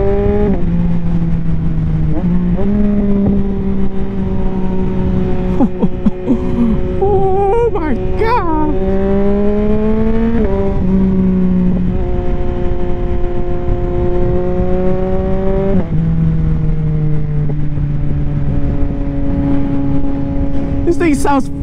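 A 2022 Yamaha XSR900 fitted with a Kelpi Custom Moto shorty exhaust revs repeatedly while riding, its engine note rising and falling in steady sweeps through throaty lows and higher RPMs, close and loud, with a rider talking over it.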